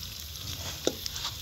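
Egg frying in a pan at a riverside fishing camp: a soft, steady sizzle with faint crackles, plus a couple of sharp clicks or spatters near the end.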